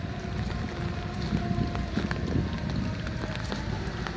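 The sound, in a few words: water pump engine starting up at a river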